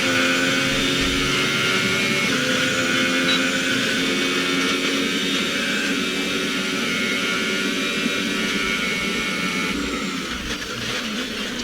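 A Formula 1 car engine in the F1 2018 video game screams through a practice lap at Brazil, a sustained high-pitched whine that stays loud and steady, with a slight dip toward the end and no talking.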